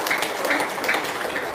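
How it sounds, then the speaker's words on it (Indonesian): Audience applause at a live religious gathering, a short burst of dense clapping at moderate level with no voices over it. "Tepuk tangan dulu dong biar semangat dong"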